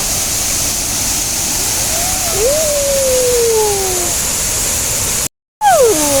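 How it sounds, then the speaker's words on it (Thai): Steady, loud roar of a waterfall at Tat Nam Haeng in a forested gorge, continuous white-noise rushing throughout, with a few faint whistle-like tones drifting over it and a brief cut near the end. "นี่น้ำตกตาดน้ำแห้งงามเย็น"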